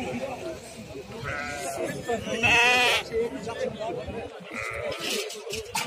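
Sheep bleat repeatedly at a rainy livestock market in Kurshab, several loud calls up close over a steady hum of crowd chatter and people talking.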